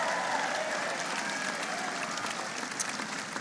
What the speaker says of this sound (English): Give Roy a big round of applause.